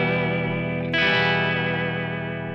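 An electric guitar with Gibson 57 Classic pickups in a PRS rings out a sustained, heavily distorted chord, and a fresh strum about a second in brightens and swells the tone. It sounds close, with no voices.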